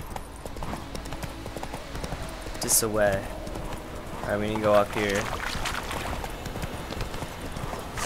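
The horse Roach's hooves clop steadily in The Witcher 3, galloping along under someone talking over the game audio.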